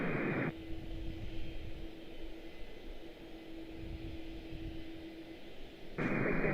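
A United heavy jet taking off from runway 30 at Washington Dulles, a broad steady engine roar with a thin whining tone held throughout, moderately distant, with no voices over it.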